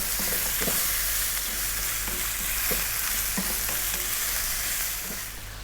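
Minced pork stir-frying on high heat for sweet and sour pork, giving a loud, steady sizzle with occasional scrapes and knocks of the utensil as it is kept moving in the pan, with no talk.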